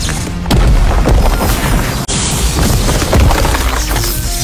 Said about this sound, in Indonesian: Akibat ledakan kekuatannya, Yun tertimpa figurannya sendiri.